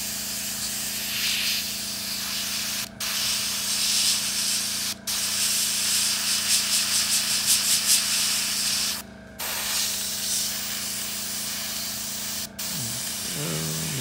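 An airbrush sprays out paint as it is rinsed while a scale model water effect is being made, giving a steady close hiss broken by a few brief pauses.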